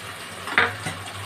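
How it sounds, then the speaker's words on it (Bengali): Curry with ground rice paste being stirred in a pan, a short scrape of the spoon against the pan over a soft sizzle, close and brief. "এটা সব কিছু ভালো করে আমি নেড়ে নেব।"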